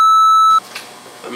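A loud, steady censor beep tone for about half a second, cutting off abruptly into quiet background chatter.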